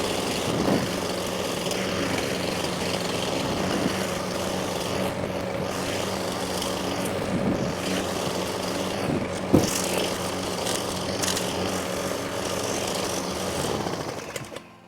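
Lawn mower fitted with a dethatching blade with tines, running as a steady, loud, droning engine roar with a raspy mechanical buzz that holds constant throughout.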